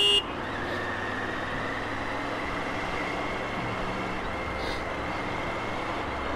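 Heavy road traffic on the way to Ooty rumbles steadily with engines and trucks close by, and a brief horn toots near the start.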